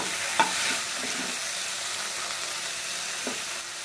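A soft, steady sizzle of tomatoes and onions frying in a pan, with a couple of faint clinks of a utensil stirring.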